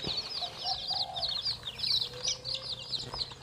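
White-feathered Kai Chee gamecock chicks, one day old, peep in a rapid, high-pitched chorus of overlapping chirps, close and continuous over a faint low hum.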